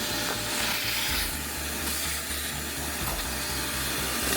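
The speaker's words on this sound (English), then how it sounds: "I took out the vacuum just to remove the leaves" Vacuum cleaner sucking leaves out of a BMW E90 car, a steady loud hissing roar with a pulsing low motor hum running unbroken throughout, no talking.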